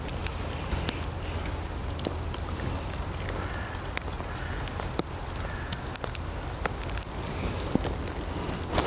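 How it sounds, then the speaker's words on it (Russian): Rain falls outdoors in cold, damp weather amid thawing snow, making a constant soft hiss scattered with sharp drip-like ticks, with no one speaking. "Тут еще холодно и дождь идет."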